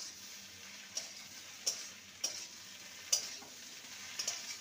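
Okra and egg being stirred in a frying pan with tomato sauce, a soft steady sizzle broken by several sharp spoon clicks against the pan, fairly quiet and with no talking.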